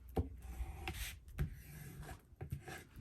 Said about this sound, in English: So just burnish it down.